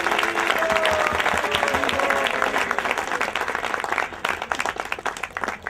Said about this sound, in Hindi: एक बार हमारे भगवान और भक्त के लिए जोरदार तालियां बजाइए।